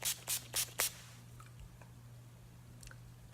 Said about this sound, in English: to finish it off, I'm gonna spray with NYX Matte Finish Spray